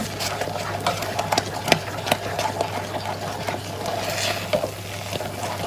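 Pandan Taiwanese egg cake batter is stirred in a pan over heat, a utensil scraping and tapping in a loose, irregular rhythm over a low steady hum, close and moderately quiet.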